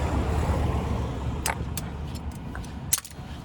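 A Citroen C4 Loeb edition engine idles with a low, uneven, rough rumble, joined by a few sharp metallic clinks and rattles close by.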